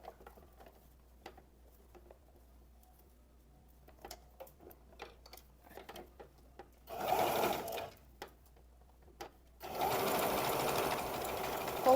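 A sewing machine stitches a zigzag seam on elastic for wide-leg trousers, running in short bursts with soft ticks and taps between, then louder sustained runs near the end.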